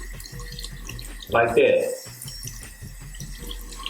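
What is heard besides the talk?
cold water running from tap onto brush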